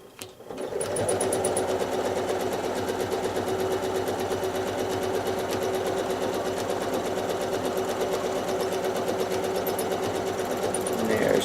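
A sewing machine stitches rapidly and continuously during free-motion quilting of a fence rail block, a close, fast mechanical rattle that runs steadily from start to finish with a voice faintly present.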